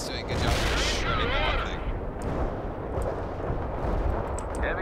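Heavy artillery fire thunders in the World in Conflict strategy game, a dense barrage of booming blasts and rumbling impacts rolling on continuously, with a few sharp crackles on top.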